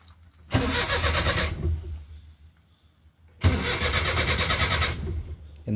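A Maruti 800 car under restoration cranks in two separate attempts, each a loud, rhythmic whirring starter burst of about a second or two with a pause between, the engine not catching.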